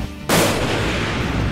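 A single loud rifle shot fired at a distant target on a shooting range cracks sharply and then rolls off into a long booming echo.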